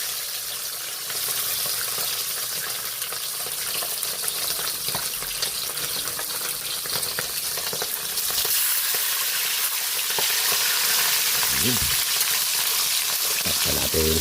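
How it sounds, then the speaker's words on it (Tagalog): Fish fries steadily in a hot pan, giving a continuous broadband sizzle that swells louder partway through, with occasional clinks and light spatters and no talk. "Magpiprito na po tayo na isda."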